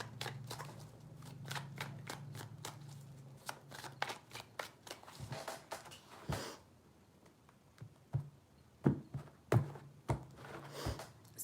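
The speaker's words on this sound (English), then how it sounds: "3 shuffles for Aries, please." Tarot cards being shuffled in repeated riffles, a rapid flutter of crisp card snaps with short pauses between shuffles, close and fairly quiet.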